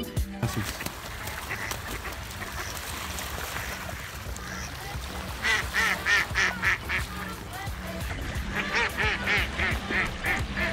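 Ducks quack repeatedly in rapid bursts as several squabble and fight near water, loud and close, with a boat engine humming underneath.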